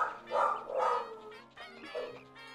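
Several dogs bark and yip indoors in a few rough bursts, fairly quiet and mixed with room noise and faint voice-like sounds.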